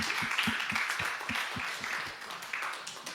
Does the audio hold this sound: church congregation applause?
yes